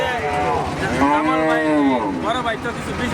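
A cow gives a long, loud mooing call close by, followed by a shorter second moo.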